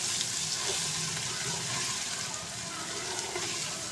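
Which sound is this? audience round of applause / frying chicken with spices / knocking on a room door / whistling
frying chicken with spices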